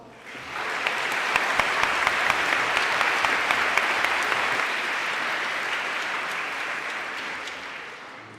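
Applause from the audience at a Model UN opening ceremony, a dense sustained clapping from a large crowd that swells quickly, holds for several seconds, then slowly thins out.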